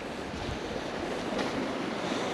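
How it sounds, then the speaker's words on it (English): A small creek in Vermont's Northeast Kingdom flows steadily nearby, giving a continuous close rush of water with no talking. "Here's a nice little creek."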